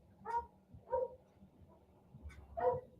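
Tulip, a dog out in the driveway, gives four barks spaced well apart, each a single sharp woof heard from a moderate distance against a quiet outdoor background, with no talking.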